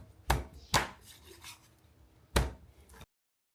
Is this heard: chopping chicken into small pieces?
yes